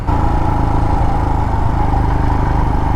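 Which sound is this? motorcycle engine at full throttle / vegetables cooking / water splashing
motorcycle engine at full throttle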